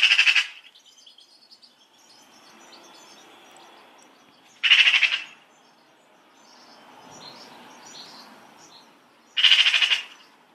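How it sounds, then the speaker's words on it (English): A common magpie, a black and white bird, gives three harsh, loud chattering bursts spaced evenly about five seconds apart, with quiet background between them. "The common magpie is a noisy black and white bird"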